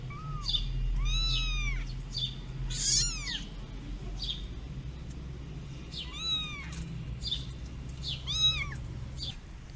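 A sick orphan kitten cries desperately while lying on the ground: repeated high, wavering meows in small clusters over a low steady hum, close and clear.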